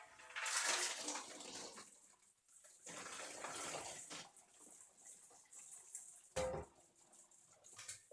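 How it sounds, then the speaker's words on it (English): Star San sanitizer poured back into a funnel while kegging a large batch of beer, heard as splashing liquid bursts, loudest at the start and returning midway, with a short clunk near the end. "And now I can pour it right back into my funnel."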